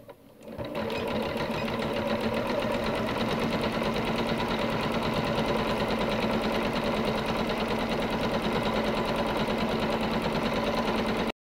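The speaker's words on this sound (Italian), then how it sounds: "adesso effettuo un'ulteriore cucitura su questo lato e su questo" A sewing machine runs steadily, topstitching a seam along a fabric bag, its fast even needle clatter loud and close for over ten seconds after a brief start, then stopping abruptly.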